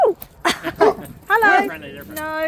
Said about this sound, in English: Active dogs.